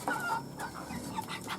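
A broiler chicken raised as a village chicken clucks softly nearby in a few short, low calls, with no talking.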